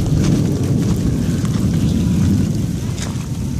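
A summer hail storm with thunder in Phoenix, Arizona, a loud continuous roar of pounding hail and rain mixed with low rumbling that fades slightly toward the end.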